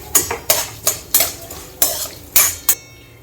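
Urad dal being tipped into a pan to dry roast for homemade sambar powder, seven or eight sharp metallic spoon scrapes and clinks against the pan in an uneven rhythm, close and clear, with no voices.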